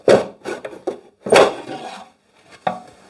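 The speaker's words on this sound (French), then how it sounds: "je suis obligé d'enlever un cardan" A woodworking clamp is loosened and pulled off, making a series of knocking, rubbing wooden clunks and scrapes in irregular bursts, close by and without speech.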